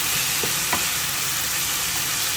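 Pork fat frying in hot oil for pork adobo, a loud, steady, close sizzle with a faint stir or two and no talking.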